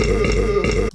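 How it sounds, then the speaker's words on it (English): A single sustained burp sample from a pack of scream sounds, loud and close with a low, buzzing tone that holds for about a second before cutting off abruptly. "one of the samples in the screen pack is a burp"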